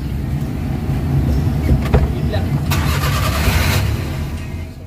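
A Suzuki Multicab Transformer with a K6A engine and an oxygen sensor fault runs close by, producing a steady, loud mechanical rumble with a few sharper clicks partway through.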